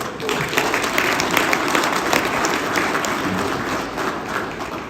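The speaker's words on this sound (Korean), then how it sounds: "김장호 씨한테 박수 한번 보내시오" Audience applause at the founding general assembly of the organizing committee for the 2025 Gumi Asian Athletics Championships, a steady dense patter of many hands clapping throughout, fairly even in level with no voices standing out.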